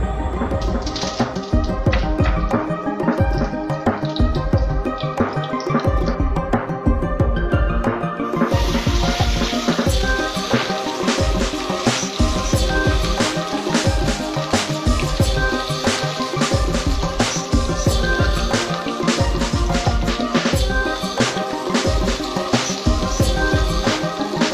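Fish sizzles in coconut oil with curry leaves, a dense, steady crackling and spitting fry that runs loud and continuous throughout, growing brighter and hissier partway through.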